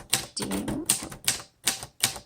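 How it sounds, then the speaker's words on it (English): A 1956 Royal Quiet De Luxe typewriter in charcoal, set on a typewriter pad, clacks out a quick run of keystrokes, close and crisp with uneven spacing between strikes. "this is truly a very quiet typewriter"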